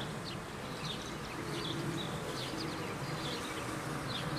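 Honeybees buzz steadily during a hive inspection, a soft continuous hum over outdoor background noise, with faint higher chirps scattered throughout.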